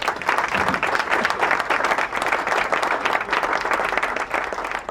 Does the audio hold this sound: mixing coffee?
no